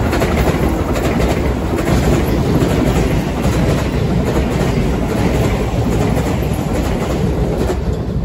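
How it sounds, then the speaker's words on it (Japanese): A Keio Line 8000 series eight-car train passes through Hachimanyama station, a loud, steady rumble with rhythmic wheel clatter over the rails, close by and unbroken throughout. "この電車は京王八王子行きの8両編成の"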